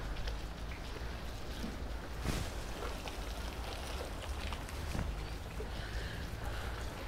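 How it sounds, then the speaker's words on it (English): Light rain falls steadily at a ferry wharf during lure fishing, a continuous soft hiss of drops on water and surfaces with a few brief sharper taps. "Rain seems to be backing off a bit."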